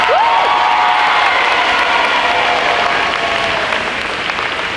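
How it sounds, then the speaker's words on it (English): Audience applause for the final act at a school talent show, steady dense clapping with cheering and a whistle near the start, continuing loudly throughout and easing slightly at the end. "can we get a round of applause"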